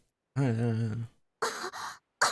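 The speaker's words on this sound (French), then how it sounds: "Elle tousse si fort qu'elle arrive à peine à respirer." A girl's strained, voiced groan is followed by a few harsh, breathy coughs in quick succession, close and with nothing else around, from the video game Octopath Traveler.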